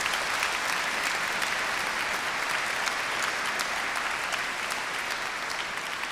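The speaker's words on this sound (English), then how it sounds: "can we please have for our Esquire Bedell a huge round of applause?" Sustained, dense applause from a large graduation ceremony audience, honouring a retiring Esquire Bedell, rolling steadily at an even level throughout with no voices standing out.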